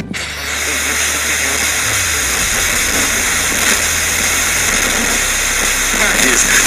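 Steady broadband hiss of static from an untuned radio, loud and continuous throughout, with a low engine-like hum running beneath it.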